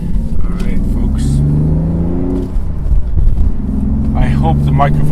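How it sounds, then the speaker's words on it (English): Exhaust of a 1994 BMW 850CSI while driving, a steady low rumble with rising engine tones, heard under continuous speech from inside the car. "I hope the microphone is catching that exhaust. It sounds really beautiful."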